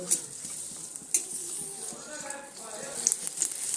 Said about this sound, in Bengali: এবার ঘিয়ের মধ্যে দিয়ে কাজু আর কিশমিশটা সুন্দর করে একটু লালচে রং ধরিয়ে ভেজে নেব।